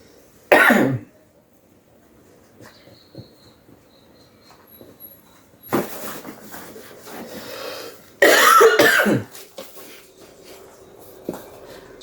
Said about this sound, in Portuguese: Tô meio ruim da garganta, tossindo.